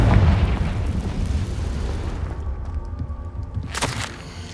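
A Confringo fire spell blast in the video game Hogwarts Legacy, a loud booming explosion that opens the clip and rumbles on, followed by a smaller crackling burst near the end.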